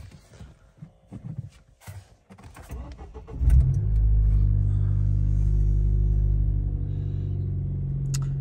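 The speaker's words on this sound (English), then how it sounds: "Let me start my car and show you guys how this works." A car engine cranks and catches after a few seconds of handling noises, then settles into a steady, loud, close idle rumble for the rest of the clip.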